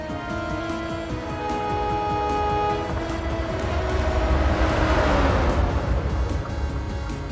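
A two-tone horn blares from a train in a train simulator game, sustained tones over a loud, continuous rumble of the moving train, with no voices.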